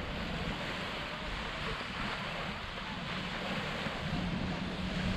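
Sea waves with a slight swell in a Norwegian fjord near Lista, Farsund and Lyngdal, a continuous broadband wash of water mixed with wind noise, steady and moderately distant.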